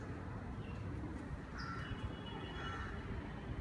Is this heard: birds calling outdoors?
yes